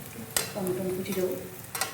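A spatula scrapes and clinks against a pan as chopped tomato, ginger-garlic paste, fried potato and onion are stirred together. A soft sizzle sits underneath, with a couple of sharp taps and a faint voice in the background.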